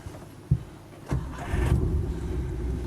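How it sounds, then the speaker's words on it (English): A Land Rover 90 County Station Wagon fitted with a V8 cranks briefly, then fires and settles into a steady, close idle with no talk over it. "Starts nicely hot or cold really, bit of choke when it's cold, but no more than that."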